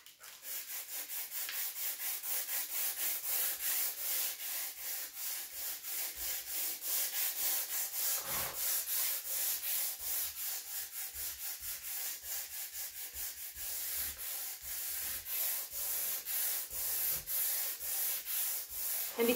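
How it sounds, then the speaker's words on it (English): Gentle hand sanding of a painted wooden clock with sandpaper: steady back-and-forth strokes, close and continuous, with no other sounds. "So I'm just going to start gently sanding."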